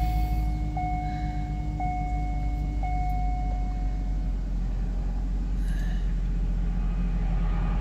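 A 1998 Chevrolet Corvette idles after starting, a loud, steady, low engine rumble that runs unbroken throughout, with no talking.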